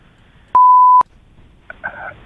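A single steady electronic beep, loud and clean, lasting about half a second, followed by a brief faint tone and quiet.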